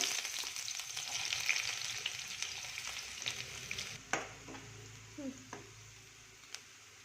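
Onions fry in two spoons of oil in a pan for a peas curry, crackling in a dense close sizzle that fades partway through, followed by a few spoon stirs and clanks.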